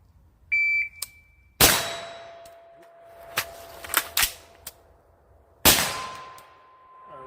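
Several sharp close-range rifle shots from an SPR ring out at an irregular pace, with metallic target clangs after some of them and a shot timer beep at the start, with no talk.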